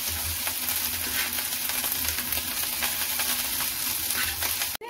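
Boiled rice stir-fried in a pan over a medium flame for egg fried rice, a steady bright sizzle with scraping and tossing of the grains, constant and close throughout.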